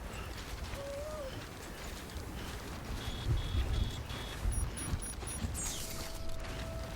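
Steady rain falls across an outdoor landscape in the video game Death Stranding, a continuous soft hiss with occasional creaking, mechanical clicks and brief tones over it, and no clear thunder.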